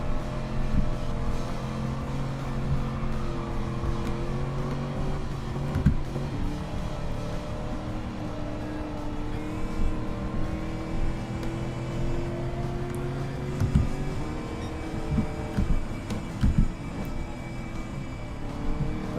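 A car drifting in the video game Gran Turismo 7, a steady loud engine drone with shifting tonal harmonics that holds throughout, no talking.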